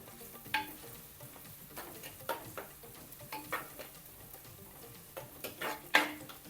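Two green chillies softening in a pan for a Kerala fish curry: a low, steady sizzle broken by stirring scrapes and a few sharp utensil clinks, close by, with no one speaking.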